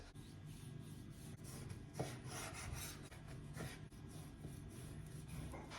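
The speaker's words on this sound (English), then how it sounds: "So I'm going to slice a piece of this now." A knife saws through a slab of home-cured chili and garlic bacon, giving soft, faint rasping strokes in a steady back-and-forth rhythm, close and quiet with no voices.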